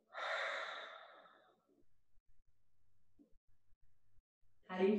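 A long, slow exhale during a yoga session at the beach, a soft breathy whoosh that tapers into near silence before another breath begins at the end.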